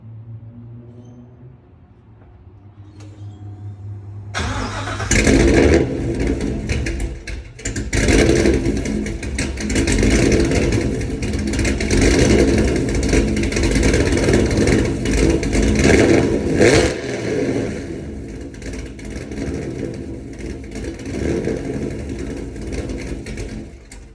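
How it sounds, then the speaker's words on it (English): Drift Corvette engine cranking and catching after a quiet idle-like hum, then bursting into loud, raw, uneven revving that surges and falls repeatedly, close and alone for about twenty seconds. "I'm gonna let you hear what the car sounds like."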